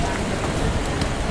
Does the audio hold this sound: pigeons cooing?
no